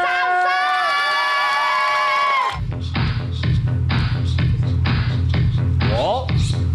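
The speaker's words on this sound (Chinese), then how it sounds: "接下来用最热烈掌声欢迎我们金鼎国小带来的扯铃表演。" An audience at a children's television game show cheers and claps for an elementary school diabolo performance. A short tonal, music-like opening gives way to loud, sustained crowd cheering and applause.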